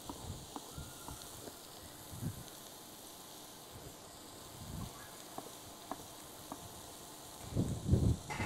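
Diced vegetables fry in a pan with a soft, steady sizzle and hiss, punctuated by light stirring ticks and a few louder clattering knocks near the end.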